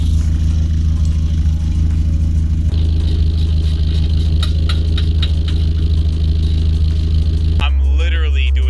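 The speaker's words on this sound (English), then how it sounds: "this exhaust leak is, I can't even drive it, dude. It's so fucking loud." Mazda Miata engine running with a loud exhaust leak while crawling at low speed around 2,000 RPM: a harsh, continuous rumble with a rapid ticking puff and rattle, shifting tone partway through, and talking mixed in over it.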